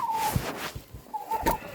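A broody hen settling onto Australorp eggs gives short, low clucks in a few separate bursts, close by, with a faint high tone running through the background.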